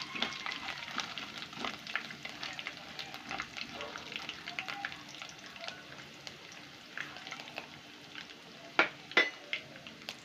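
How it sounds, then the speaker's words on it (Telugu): Chana dal frying for yogurt pachadi, a faint steady sizzle with light stirring and a few sharp clinks of a utensil against the pan near the end. "ఇప్పుడు వీటిని బాగా కలుపుకోండి, మంచిగా ఫ్రై చేయండి."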